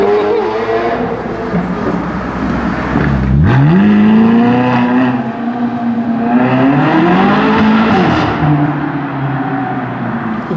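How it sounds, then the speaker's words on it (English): A Lamborghini Aventador S and a Ferrari California pull away on a London street, loud engines revving and rising in pitch as they accelerate, a second surge following the first, close and dominating. "The Aventador S and the California both departing"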